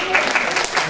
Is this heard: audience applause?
yes